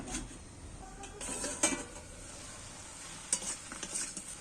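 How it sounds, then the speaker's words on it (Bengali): Radish stirred with sugar in a pan makes soft scraping and sizzling under a quiet hiss, with two brighter clinks of a utensil against the pan and no voices. "মুলোটা ঘেঁটেও দিচ্ছি চিনিটা নেড়ে দিচ্ছি"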